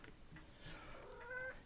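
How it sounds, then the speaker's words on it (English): A house cat indoors gives a faint, short meow near the end, over a quiet room background. "You guys may hear my cat."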